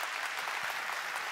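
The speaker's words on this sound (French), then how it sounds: "On vous applaudit" Audience applause for Bertrand Piccard, president of the Solar Impulse Foundation, at an inaugural conference session, a steady, fairly faint wash of clapping throughout the short stretch.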